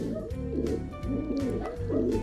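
Pigeon held in the hand, cooing softly in a few low, rolling, throaty bursts, close and fairly quiet.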